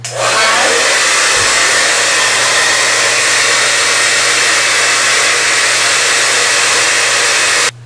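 Hot air brush blowing steadily while drying hair at the roots to lift them, a loud continuous whirring rush running nearly unbroken from start to finish, close up with no talking.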